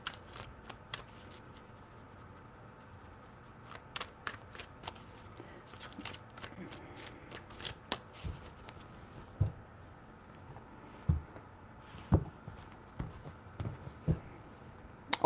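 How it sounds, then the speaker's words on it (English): Tarot cards are shuffled in quick, crisp riffles and taps, with repeated bursts of shuffling and soft card slaps close by in a quiet room. "Three shuffles"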